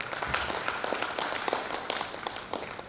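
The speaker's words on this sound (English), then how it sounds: "Let's clap for him" Audience at a national agriculture conference clapping for a professor and faculty member of economics; a moderate crowd's brisk, uneven clapping in a room, continuous for a few seconds with no talk.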